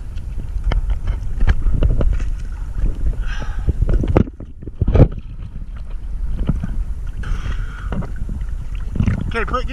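A sailboat under way near Key West, with wind buffeting the microphone, water sloshing against the hull and steady rushing noise, while people talk on board.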